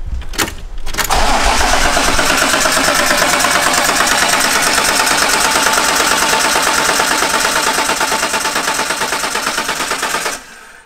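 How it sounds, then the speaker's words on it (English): A BMW M3 engine cranks rapidly on the starter, seemingly with little compression, in a loud, steady, fast-pulsing churn that runs nearly eleven seconds after a brief clunk, then cuts off abruptly. "Oh my God, this thing cranks really fast"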